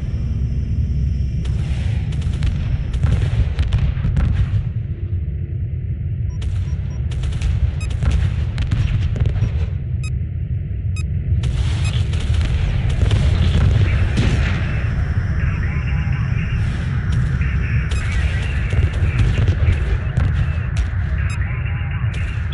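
Weapons fire and explosions in the space strategy game Homeworld Remastered, a dense continuous barrage of low booms and rapid gunfire crackle, loud and unbroken, with brief game voice callouts in the mix.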